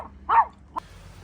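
A small Chihuahua gives two sharp, close barks, the first longer and louder, the second a brief yip a moment later, over a quiet low background hum.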